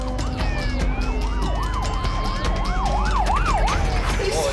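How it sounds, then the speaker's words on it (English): Several emergency vehicle sirens wail over one another at Bondi, rising and falling in overlapping cycles at moderate distance above a steady traffic rumble. "The sirens lit up Bondi."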